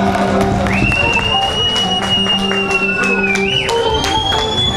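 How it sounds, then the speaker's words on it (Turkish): A crowd applauds at a village picnic auction in Günkoru, Ladik, Samsun, with steady clapping and scattered sharp taps, a sustained whistle-like tone over it, and voices mixed in. "alkışlar güçlü gelsin"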